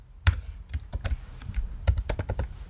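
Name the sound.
typing on a computer keyboard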